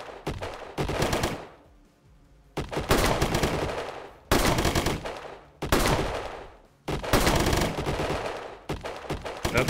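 Bursts of automatic gunfire in the video game Colony Ship, four or five sustained volleys a couple of seconds each, loud and close, separated by short quieter gaps.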